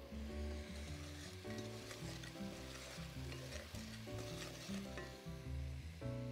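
Chicken curry being stirred in a hot pan, a soft steady sizzle with repeated scraping and clattering of the spoon against the pan in an uneven rhythm, fairly quiet and close, with no talking.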